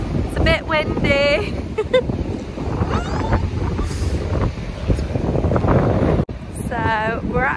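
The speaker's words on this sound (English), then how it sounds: "It's very cold and very windy" Heavy, cold wind at a beach in Aberdaron, North Wales, buffeting a microphone in loud gusts, with people talking through the rumble.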